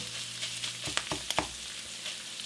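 Ground meat cooks in a pan with a continuous sizzle and a short burst of three or four scraping knocks from a utensil midway.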